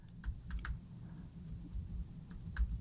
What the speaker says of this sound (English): I just typed in group